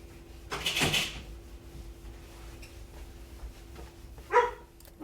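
A guard dog gives a sharp bark early on and another brief bark near the end, close by in a quiet room, with little else between.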